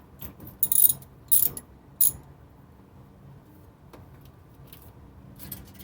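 Ratchet with a 1/2 inch socket loosening a bolt on a motor, three short bright clicking bursts close to the mic, then quieter faint mechanical clinks.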